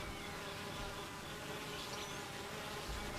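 A swarm of honey bees at a hive hums in a steady, dense drone, some wings fanning to cool it on a hot summer day, continuous and close with no voices.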